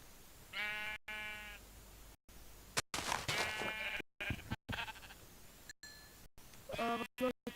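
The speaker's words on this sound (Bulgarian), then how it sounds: "Ето видях овце." Sheep bleating in the video game Minecraft, several loud wavering bleats close by in quick succession, separated by short silent gaps.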